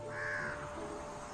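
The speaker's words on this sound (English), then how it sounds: "Crows will mob the eagles relentlessly." A crow gives a single harsh, drawn-out caw, fairly near, over a constant background hum.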